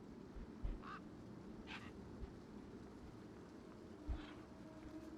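Birds in the video game Beyond a Steel Sky give a few short quacking calls, faint and somewhat distant over a low ambient background.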